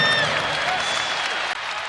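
A basketball arena crowd cheers and applauds during a Louisville game, a loud dense roar that fades slightly over two seconds, with a whistle-like tone at the start.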